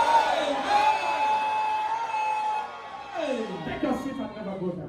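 Church congregation in a worship service shouting amen loudly together, a sustained crowd roar of voices that swells again near the end.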